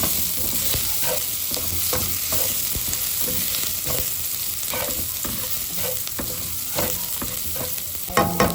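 Onions sauté in a hot pan for a meatball and misua dish, producing a continuous dense sizzle marked by repeated utensil scrapes and taps. A single brief spoken word occurs near the start.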